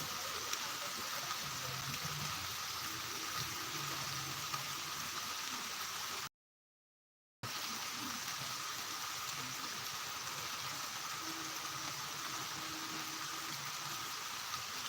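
Steady rain falls under dark cloud cover during a sudden downpour in the Chidambaram area, a constant even hiss that continues unbroken apart from one brief gap of silence.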